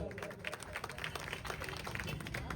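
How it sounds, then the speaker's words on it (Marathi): Crowd applause for a small child being honoured at a public felicitation ceremony in Sangola, a steady wash of many hands clapping at moderate distance, continuous for the whole stretch with faint voices mixed underneath. "या बाळासाठी जोरदार टाळ्या"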